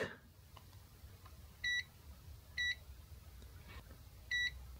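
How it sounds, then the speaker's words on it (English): Three short electronic multimeter beeps from a charging capacitor in a laptop power supply, evenly spaced and fairly quiet, over a low steady hum with no talking. "This is a short beep, so it's a capacitor charging not a short circuit."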